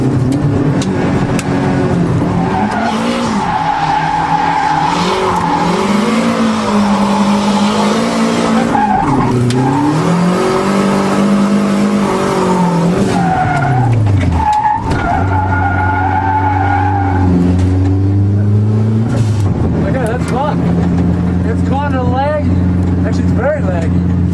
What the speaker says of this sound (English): We'll start off with a simple handbrake drift.